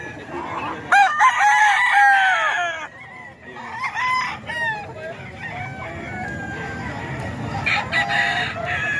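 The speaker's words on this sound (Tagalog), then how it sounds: "Manok ni Kuya Joey yan mga ka-idol" A rooster crows at a cockfight with betting going on, several crowing calls and clucks ringing out clearly against a busy, noisy crowd backdrop.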